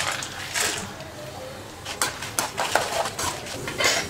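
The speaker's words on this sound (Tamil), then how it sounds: "வேர்க்கடலை போட்டுக்கலாம்." Roasted peanuts go into a pan for tamarind rice, with a burst of rattling, clattering metal and a spoon scraping the pan, close and busy, with no talk.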